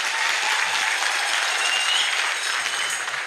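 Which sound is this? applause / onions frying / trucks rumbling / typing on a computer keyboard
applause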